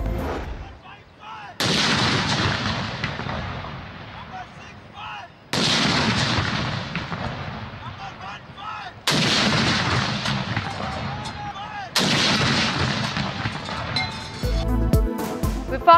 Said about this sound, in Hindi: वफाकी दारुल हुकूमत इस्लामाबाद में 31 तोपों की सलामी के बाद परचम कुशाई।